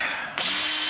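A power drill whirs up sharply partway through and holds a loud, steady high-pitched motor whine to the end, a brief inserted sound effect with no voices.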